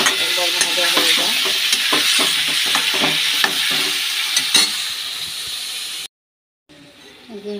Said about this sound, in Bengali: কচুটা দিয়ে আমি একটু ভেজে নেব